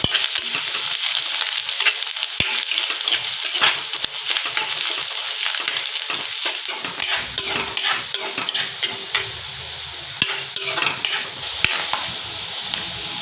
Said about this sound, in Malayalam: നമുക്ക് ഈ തേങ്ങ കുറച്ച് ബ്രൗൺ കളറാകുന്നത് വരെ വറുത്തെടുക്കാം.